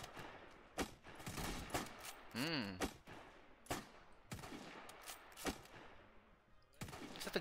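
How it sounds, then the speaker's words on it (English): Musket gunfire in the Roblox survival game 55 Days at Peking, several sharp separate shots spaced irregularly, with game sounds in between and a brief rising electronic tone. "I think they're using muskets now."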